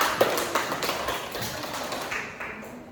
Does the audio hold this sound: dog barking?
no